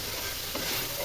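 Fish being stir-fried and browned in a pan gives a brief, close, steady sizzle with rough scraping and stirring noise throughout, with no talking.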